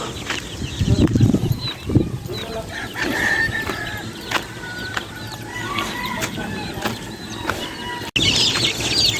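Chicks being carried and moved on a game farm, a dense chorus of chirping and clucking fowl calls, fairly close, over a steady windy outdoor background.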